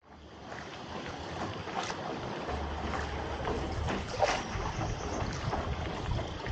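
Rowboat gliding on the river at Tam Coc, Ninh Binh, Vietnam, rowed by a boatman using the feet; a steady wash of water and wind noise runs throughout, with faint splashes and creaks and no talking.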